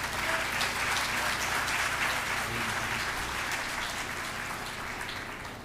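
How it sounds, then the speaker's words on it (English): A large audience claps at an awards celebration, dense sustained applause that stays loud and then eases slightly toward the end. "Round of applause."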